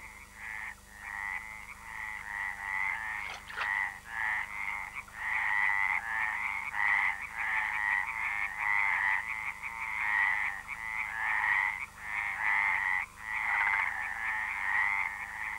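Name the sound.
stripeless tree frogs croaking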